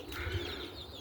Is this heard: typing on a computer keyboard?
no